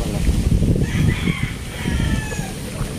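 Chickens cluck and a rooster crows close by on a muddy yard after a typhoon, the clucks scattered and busy amid steady background noise.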